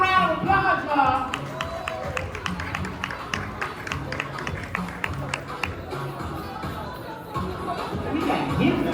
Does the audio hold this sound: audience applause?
yes